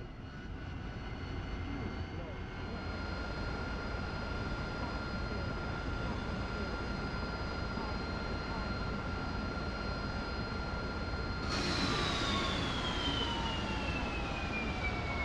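A Harrier jet idles in the DCS flight simulator with a continuous steady whine and hum from the engine. A sharper, falling tone cuts in near the end over the constant drone.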